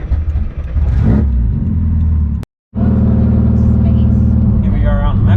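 A loud Subaru STI drives along steadily with a deep, continuous exhaust drone and engine rumble throughout, broken by a brief dropout midway, while people talk over it.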